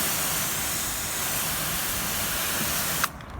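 A strong water spray hisses steadily while rinsing residue off a ceramic-coated car panel, continuous and close, cutting off abruptly near the end.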